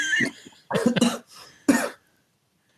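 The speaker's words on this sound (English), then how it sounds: "That was just a cough." A person coughs several times in close, harsh bursts, with a throaty cluster at the start and another single cough a moment later, then quiet.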